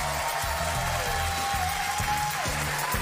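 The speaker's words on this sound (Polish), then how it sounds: "Brawa dla was!" A studio audience applauds at the finale of the Polish cooking show Hell's Kitchen, a steady dense wash of clapping running beneath music.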